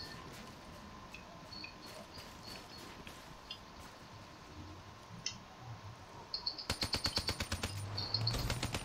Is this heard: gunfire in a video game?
yes